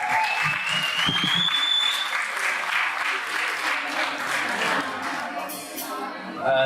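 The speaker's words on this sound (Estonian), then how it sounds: "Suur aplaus!" An audience at a school anniversary celebration applauds loudly for a school band, dense continuous clapping close by with a brief high whistle near the start, sustained throughout.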